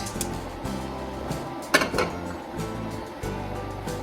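A steel pot is handled on a kitchen stovetop while making steel cut oats, giving a single sharp metallic clank near the middle followed by lighter scraping knocks, with faint background rumble.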